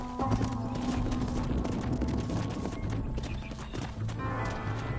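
Horses gallop in the Western video game Red Dead Redemption, a continuous drumming of hoofbeats at an even quick rhythm over a low sustained musical tone.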